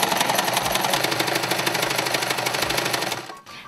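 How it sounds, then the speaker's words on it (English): A sewing machine stitching down the sides of a dress, a fast, even mechanical chatter that runs steadily up close, then stops abruptly near the end. "Now that we've sewn the sides with the sewing machine"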